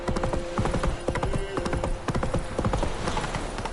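Roach, the horse in The Witcher 3, trots with steady clip-clop hoofbeats close by, a brief whinny over a dense, busy game soundscape.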